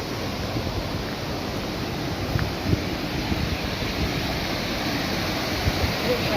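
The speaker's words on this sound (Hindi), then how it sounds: "ये इसी तरह ऊपर पहाड़ के जो है वो निकल के पानी नीचे बह रहा है।" Water runs continuously down from the mountain near Balakot, Kiwai and Shogran, a broad steady rush of stream and wind noise that holds at an even level throughout.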